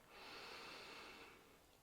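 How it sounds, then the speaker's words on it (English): A single long, airy inhale through the nose during a hypopressive pelvic floor exercise, close and quiet, swelling and then tapering off over about two seconds. "Breathing into the sides and into your back."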